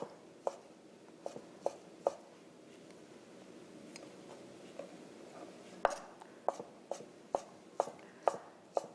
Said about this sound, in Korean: 그래서 햄도 옥수수랑 비슷한 크기로 잘라주시면 돼요